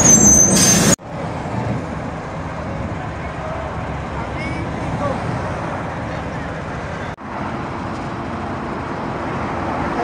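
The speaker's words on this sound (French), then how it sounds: "on a enfin un dépanneur qui arrive" A heavy tow truck arriving at a breakdown rumbles steadily close by with a hiss of air brakes, engine noise filling the scene throughout.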